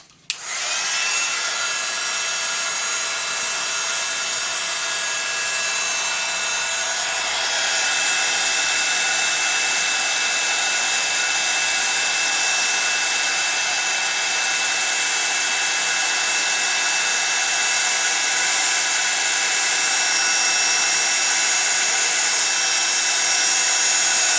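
A heat tool runs continuously on a paper card craft, a steady loud whooshing blower hum that holds unbroken for over twenty seconds after switching on.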